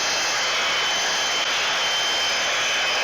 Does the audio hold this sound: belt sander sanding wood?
yes